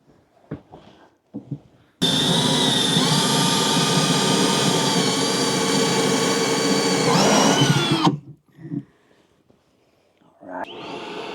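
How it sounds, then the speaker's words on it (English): A power drill whines loudly and steadily for about six seconds drilling a hole through the side of a vehicle during a sound system install, pitch shifting slightly as it bites, with light handling clatter before and after. "I'm going to drill this hole anywhere that I can get it through the side right here"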